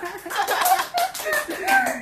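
An audience greeting a guest claps in scattered, uneven bursts at fairly close range, mixed with voices and a little laughter.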